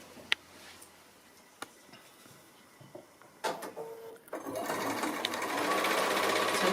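A sewing machine stitches a line on a foundation-pieced quilt block, starting after a few faint clicks and handling noises and then running as a steady, fairly close whir that continues to the end.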